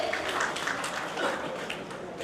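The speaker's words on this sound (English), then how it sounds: "Come on, huge round of applause" An audience applauds the directors of Max Granito Private Limited at a celebration of the company's ten years, a dense, steady wash of many hands clapping at moderate volume throughout.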